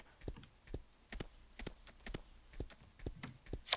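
Horse hooves clip-clopping in the Silver Buckle Stables video game, a faint, steady walking rhythm of sharp clops, roughly two per second, heard alone.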